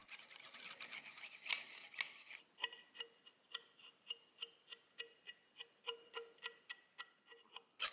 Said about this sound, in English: Just continue rolling the gooseneck around and hit all the edges.